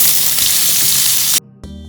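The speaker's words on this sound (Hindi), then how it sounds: "प्रथम आम 2-3 चामच तेल देकी भल कांकड़ आलूटा भल कि भाजीदेबा" Spiny gourd and potato pieces fry loudly in hot oil, a dense, steady sizzle heard close up that cuts off abruptly near the end before a quieter clatter.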